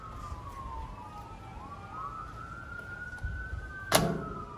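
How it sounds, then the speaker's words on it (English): Emergency vehicle sirens wail from a distance outdoors, their rising and falling tones sweeping slowly across several seconds over a low ambient rumble, with a brief sharp knock near the end. "Sirens, exciting."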